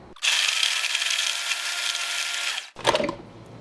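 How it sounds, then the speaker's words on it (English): A kitchen blender runs on high mixing homemade muffin batter, a loud steady whir lasting about two and a half seconds before cutting off, followed by a brief clatter of the jar or lid. "we're gonna get our lid on and we're gonna mix this up. Blend on high."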